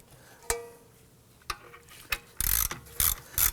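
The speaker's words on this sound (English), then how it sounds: "I'm going to remove that lower bolt" A ratchet loosens the rear brake caliper bracket bolt on a Volvo XC90, with a few isolated clicks followed by bursts of rapid, close ratcheting.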